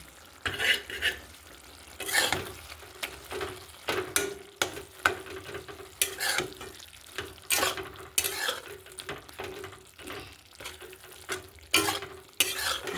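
A spoon stirs fried vetkul leaves into soybean in a pan after the gas is switched off, giving repeated close scrapes and clinks at an uneven rhythm, with no voices.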